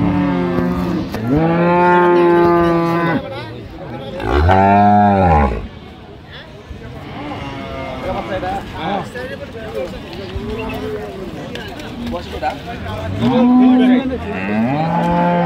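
Dairy cows and calves of improved breed moo loudly at the Ambari cattle market in Dinajpur, with several long, drawn-out calls near the start and end, and market chatter and voices continuing throughout.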